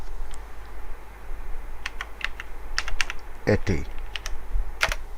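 Fingers type on a computer keyboard at a laptop motherboard repair bench: a close, uneven patter of clicks with a few sharper key strikes, while a voice briefly speaks.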